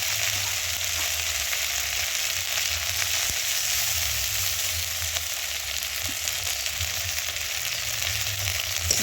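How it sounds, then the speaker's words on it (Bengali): Ginger paste sizzles in hot oil alongside fried garlic paste, onions and whole spices, a continuous even frying crackle with faint stirring taps. No one speaks over it. "রসুন পেস্ট ভাজা হয়ে গেলে দিয়ে দেবো আদা বাটা"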